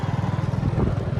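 Motorcycle engine in the farming video game Farming Simulator, a steady close putter with a fast regular pulse, running alone for just over a second.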